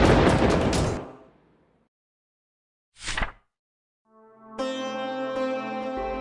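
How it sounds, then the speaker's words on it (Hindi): Thunder in a cartoon story opens with a loud crash that rolls off over about a second. Silence follows, then a short whoosh, and then sustained music comes in. "आकाश में भयानक गड़गड़ाहट हुई।"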